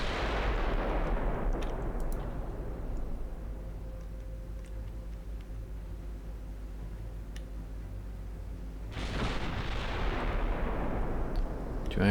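Warship firing armor-piercing shells in the naval game Ultimate Admiral Dreadnoughts: a heavy booming salvo at the start, a quieter rumbling stretch, then another loud salvo near the end.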